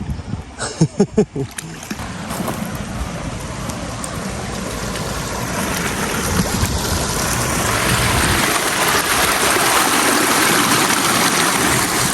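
Flowing creek water in warm weather, a steady broadband rush and gurgle that builds slightly louder over time, preceded by a few brief splashes near the start.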